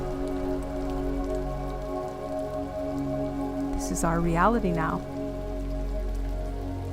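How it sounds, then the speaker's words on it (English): Rain falls steadily onto surfaces in a constant patter, with a voice speaking briefly over it partway through. "The rains have come."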